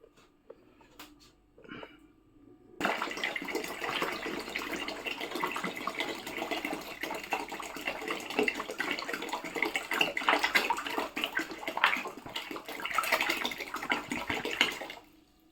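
Water gushing steadily into a container with sugar for homemade currant wine, a loud continuous pour starting after a few quiet seconds of handling noise and lasting to the end.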